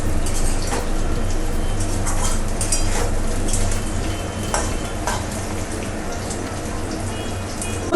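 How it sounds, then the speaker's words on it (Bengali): Potato pieces fry lightly with onion in a pan. A loud, continuous sizzle carries the scrape and clatter of stirring from start to finish. "আলুটাকে একটু ভেজে নেব"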